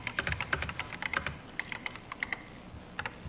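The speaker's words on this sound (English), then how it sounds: "Now you type." Typing on a 1984 Apple Macintosh keyboard at a live keynote, a quick run of crisp, close key clicks in an uneven rhythm with brief pauses, loud and alone without any talking.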